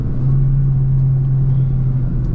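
Peugeot 208 Allure 1.6 automatic from 2022 revving while accelerating, heard from inside the cabin as a steady, loud low rumble with a sustained engine drone.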